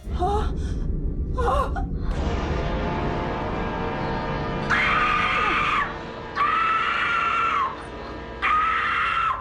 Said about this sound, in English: Do you remember the scream?